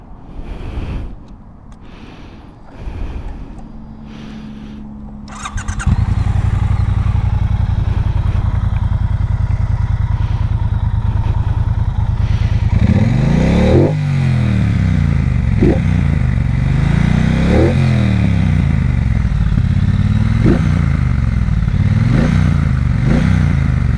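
A 2022 Triumph Bonneville Bobber motorcycle starts up after a few quiet clicks and settles into a loud, close idle. Several sharp throttle blips follow, each rising and falling, with no talking.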